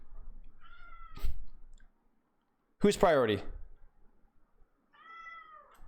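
A pet cat gives two short, clear meows at feeding time, one near the start and one near the end, with someone talking and some clicking in between.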